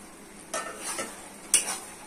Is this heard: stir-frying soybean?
yes